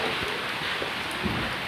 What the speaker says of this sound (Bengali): একভাবে বৃষ্টি হয়ে যাচ্ছে।